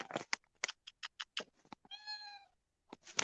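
A house cat giving a single clear, drawn-out meow in the middle of conversation, with people talking quietly before and after it.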